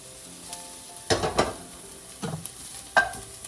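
Salmon pieces frying in hot oil in a solid-bottomed pan for a salmon curry, with a few sharp bursts of spitting and sizzling and stirring scrapes spaced over a quiet background.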